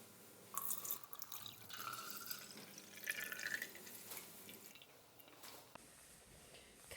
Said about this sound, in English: the next step is to pour in 300 mils of